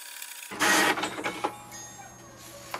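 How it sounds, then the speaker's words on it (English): An HP Envy Pro 6432 inkjet printer feeds and prints a welcome sheet, starting with a loud burst of mechanical whirring and rattling, then settling into intermittent clicks and softer feed noises close by. "Here we can see the welcome sheet is printed"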